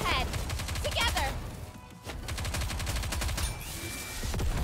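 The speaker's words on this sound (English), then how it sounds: "We need to fire straight ahead! Together!" Rapid gunfire bursts in Nikke: Goddess of Victory, dense rattling volleys with a brief lull in the middle, loud and close, with a voice briefly heard over the shooting.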